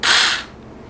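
A cordless battery slides into a Tingmengte mini chainsaw, making one brief, loud scraping click that fades quickly into quiet.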